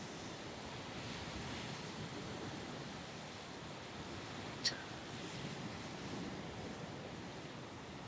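Wind sweeping through trees outdoors, a soft, continuous broadband rush at low level with a single faint tick in the middle.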